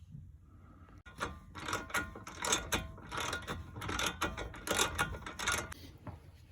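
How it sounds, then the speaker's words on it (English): A ratchet spins a nut off the lower control arm of a 2000 Toyota Sienna, making close, bursty clicking runs in quick repeated strokes over a faint low background. "Once it's loose, you can take it off with a ratchet."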